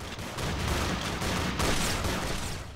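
Rapid gunfire from the Roblox game Zombie Rush crackles as a dense, continuous burst of shots, loud and close throughout with no talking over it.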